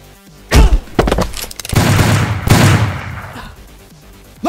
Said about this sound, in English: Someone is bound to have heard those gunshots and they'll be coming quick.